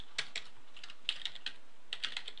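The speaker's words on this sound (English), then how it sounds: "Gotta type that slow so I don't mess it up" Short bursts of keystrokes on a computer keyboard, a few quick taps in clusters separated by brief pauses, close and fairly quiet with no voice.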